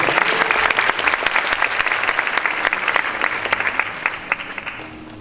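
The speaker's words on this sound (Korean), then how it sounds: "큰 박수로 맞아주세요." A graduation ceremony crowd at Durae School claps warmly and heavily in thick, continuous applause that tapers off slightly toward the end.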